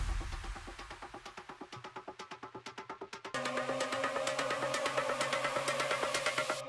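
In a dance track build-up, risers swell over a rapid repeating pulse that quickens and tightens, then a fuller, brighter layer enters midway and keeps climbing, loud and dense with no voices.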